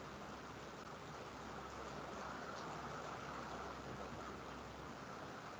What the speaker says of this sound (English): Can you hear me now? It's raining.